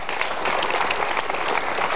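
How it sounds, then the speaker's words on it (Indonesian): Dense, continuous applause from a television talk show studio audience, even and sustained throughout with no voices. "kita berikan tepuk tangan."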